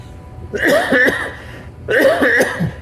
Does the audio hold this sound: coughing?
yes